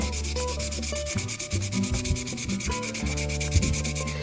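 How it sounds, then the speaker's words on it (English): Steady back-and-forth rubbing of 220-grit sandpaper along a seam on an Estes Wildfire model rocket, a close, continuous scratchy sanding with no speech. "Then take some sandpaper. In my case, I got some 220, and just sand down that seam."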